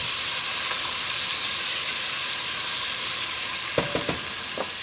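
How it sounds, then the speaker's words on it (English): Onion and garlic sizzle steadily in a hot pan as aromatics for Italian braciole, a dense frying hiss throughout with a few soft stirring clinks near the end. "I love the smell of cooking onion and garlic"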